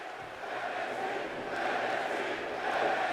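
Dense arena crowd roar from the WWE 2K24 video game, a steady broadband wash of cheering that swells slightly near the end, with no talk over it.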